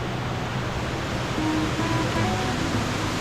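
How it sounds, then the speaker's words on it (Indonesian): Fast-flowing underground river inside Seropan Cave in Gunungkidul, a loud, steady, dense rush of water that fills the space with an unbroken roar and no voices. "Begitu tiba di sungai, saya langsung bisa melihat betapa derasnya aliran air di sungai ini."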